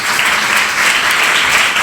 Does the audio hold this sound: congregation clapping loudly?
yes